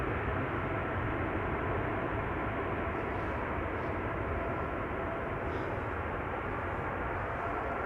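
An Airbus A380 touches down at Amsterdam Schiphol with thrust reversers engaged, producing a continuous distant broadband roar that holds level throughout, with no talk.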